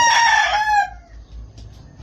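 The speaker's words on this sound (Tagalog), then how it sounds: "Bali 5 manok po ito." A rooster crows once, loud and near, among chickens readied for delivery; the call fades after about a second into quiet low background noise.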